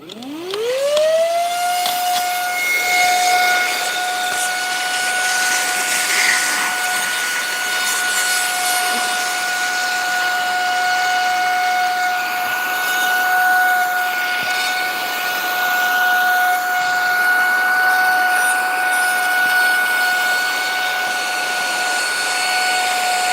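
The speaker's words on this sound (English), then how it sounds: "I don't move the blanket until I vacuum." A household vacuum cleaner powers on with a rising whine, then settles into a loud, steady high-pitched drone with airy rushing noise that runs unbroken for over twenty seconds.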